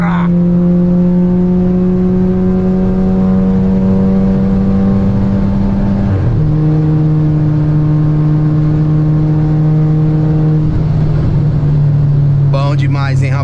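A VW Jetta 1.4 TSI with a Tiptronic gearbox accelerates hard, its engine note climbing loudly and steadily, broken by quick gear shifts where the pitch snaps down before rising again, close and dominant throughout.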